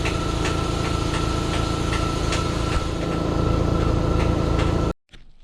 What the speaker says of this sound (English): The air compressor came on, sorry about that.